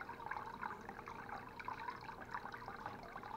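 A small homemade air pump bubbles water in a styrofoam cooler to keep live fishing bait alive, giving a faint, continuous gurgle with light drips and trickles.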